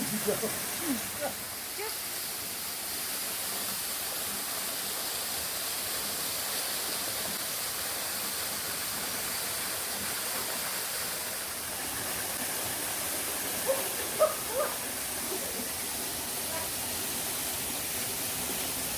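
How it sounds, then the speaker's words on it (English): A cold outdoor shower runs near a watermill, a steady hissing spray of water that holds without pause, with a few faint knocks and a voice briefly in the background. "Not exactly a warm shower."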